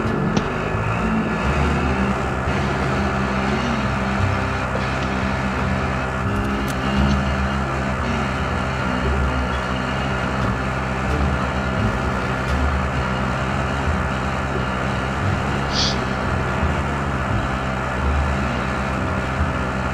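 A car in Call of Duty Warzone drives steadily, its engine a continuous close droning roar with layered harmonic hum and slight surges for the full duration, with no talk over it.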